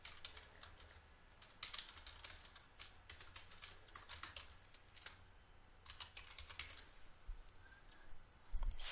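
Soft, quick keystrokes clatter on a computer keyboard as a username and password are entered. Irregular bursts of tapping are heard up close but quietly, without speech.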